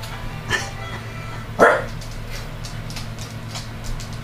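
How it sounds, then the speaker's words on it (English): Small dogs bark in two short, separate bursts, one brief yip early on and a louder bark midway, set against a steady background hum with faint twangy instrument tones. "Sounds of little twangy instruments and dogs barking are not the thing I wanted to hear"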